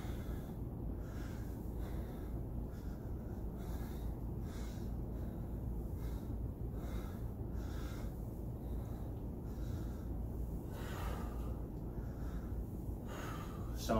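Heavy breathing during an aerobic power workout, a rhythmic series of sharp exhales and snorting breaths repeating about every second over constant low room noise, faint and close.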